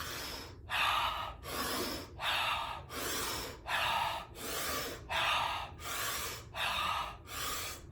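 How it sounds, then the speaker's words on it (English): Forceful mouth breathing during a tantra breathing exercise. About a dozen loud, close, evenly paced breaths follow one another in a steady rhythm, each a sharp gasping pull separated by brief pauses. "Mouth breathing."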